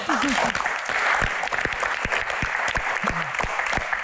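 Applause from an audience at a Q&A session, a dense steady wash of clapping that fills the clip, with a few tonal vocal sounds and brief exclamations cutting through near the start and past the three-second mark.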